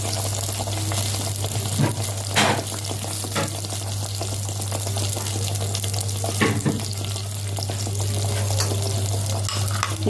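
Homemade tomato sauce frying in a pan with onions, a steady broad sizzle throughout with occasional louder stirring scrapes and splashes, no voices.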